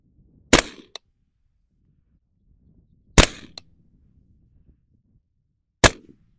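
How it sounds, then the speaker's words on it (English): Three supersonic 300 Blackout rifle shots ring out at a shooting range, each a sharp, loud crack spaced a few seconds apart with brief echoes trailing after. "I'm going to aim dead on, see where these three rounds connect."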